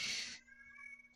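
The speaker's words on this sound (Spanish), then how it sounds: "Gato." A cat gives a single short, fairly close meow, bright and strained at the start, then trails off into quiet room tone.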